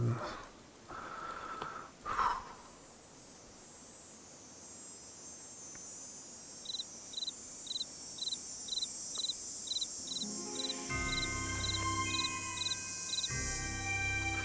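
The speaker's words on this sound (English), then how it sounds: "So the chirping sound is the sign of vermin nearby." In the Nancy Drew: Ghost Dogs of Moon Lake video game, a steady run of bright, evenly spaced chirps signals vermin nearby, sounding over a quiet insect-like ambience before soft music comes in.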